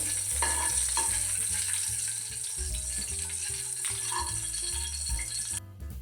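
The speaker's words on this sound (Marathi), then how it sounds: "आता हे तूप थोडंसं आपल्याला वितळू द्यायचं आहे गॅस मध्यमच ठेवायचा आहे" Ghee melting in a pan over medium-heat gas gives a steady close sizzle and hiss, with occasional light clinks and rattles of a utensil running throughout.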